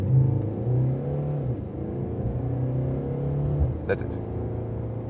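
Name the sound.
Mercedes E-Class accelerating from standstill to 70, shifting gears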